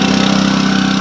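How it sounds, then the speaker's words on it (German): A trailer's own small engine drives its hydraulic pump, a loud, steady mechanical drone with a fast regular pulse, close by and with no talking. "Also er hat einen eigenen Motor, der Anhänger, damit er die Hydraulikpumpe bedienen kann."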